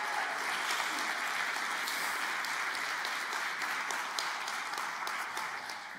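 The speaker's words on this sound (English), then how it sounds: "Just give them all a huge round of applause." A church congregation applauds, a steady wash of many hands clapping at a fairly even, moderate level throughout, easing slightly toward the end.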